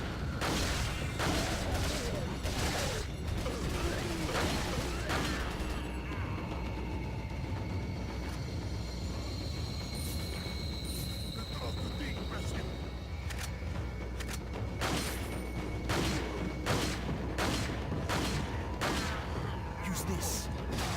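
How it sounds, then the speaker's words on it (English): Machine gun fire in Resident Evil 4, sharp bursts of shots in clusters near the start and again toward the end, with a quieter stretch between and game voices speaking over the action. "I think now it's time for machine gun"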